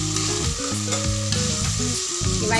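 Tempering spices sizzle in hot oil with a constant crackling fry under prominent background music, and no talking.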